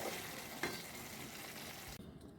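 Chili paneer sizzles and fries steadily in a pan, a soft continuous crackle with one brief stir, then cuts off abruptly near the end.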